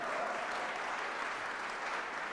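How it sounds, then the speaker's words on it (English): Audience in a hall applauding during a government announcement about the Asian Art Museum in San Francisco, a steady wash of many hands clapping at an even level from start to finish. "yes, you can applaud"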